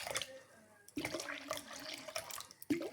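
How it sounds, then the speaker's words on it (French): Water runs from a kitchen tap into a container for bread dough in short bursts, soft and close, with brief pauses between pours. "Et je prends de l'eau."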